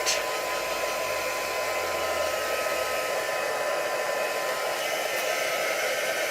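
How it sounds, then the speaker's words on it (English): A hair dryer runs steadily and close for the whole stretch, drying freshly applied craft colours with a continuous loud whooshing hum and no voices. "I'm just going to quickly give that a little dry"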